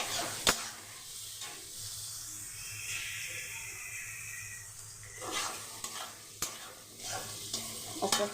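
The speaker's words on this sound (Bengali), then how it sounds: "খুব ভালো করে এটা ভাজতে হবে।" Coarsely cut onions with turmeric sizzle and hiss in a hot pan while a spoon scrapes and stirs them, with repeated clacks against the metal. Near and steady, with no speech.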